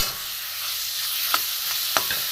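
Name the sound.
carrots frying in ghee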